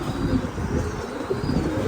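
Pigeons at a pigeon farm coo softly at close range, low murmuring calls mixed with faint rustling and wing movement.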